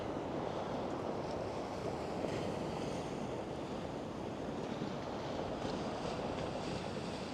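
Ocean surf rolling in at Ventura Beach beside the pier, a loud continuous wash of waves with wind buffeting the microphone throughout.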